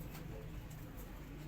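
Soft, faint cooing from a pigeon being handled and shown off by a pigeon keeper, low and continuous against a quiet background.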